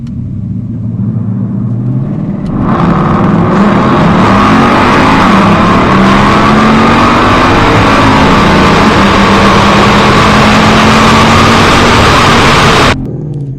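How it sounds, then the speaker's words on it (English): Engine of a supercharged 2020 Mustang GT revs up and holds high RPM, a loud sustained roar with a rising, then steady tone for around ten seconds before cutting off abruptly, close by with no talking. "I'm gonna give it a little bit more RPMs"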